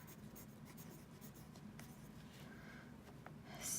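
A pen or pencil writes by hand on paper while a maths lesson on adding fractions is explained, giving a soft, continuous scratching that stays steady and quiet, with a brief louder rustle at the end.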